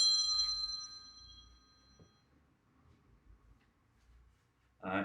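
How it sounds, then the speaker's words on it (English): A phone rings with a bright electronic tone at the start, then low background sounds follow and a second burst of ringing comes in at the end. "Forgive me for my phone ringing."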